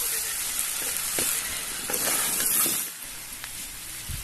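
Spices sizzle and fry steadily in a pan for a meat dish, a continuous close hiss with occasional stirring scrapes.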